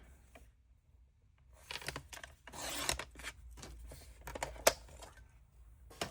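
Paper is cut for a handmade gift card holder, with close, quiet rasping and rubbing strokes in uneven bursts and a sharp snip near the end, with no talking.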